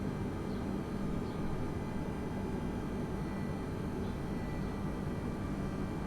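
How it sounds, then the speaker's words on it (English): Airbus A320neo engines throttling up to begin taxiing, a steady, even roar and hum inside the aircraft cabin, constant and moderately loud with no other sounds. "Just bring the throttle up a little bit to get our taxi started here."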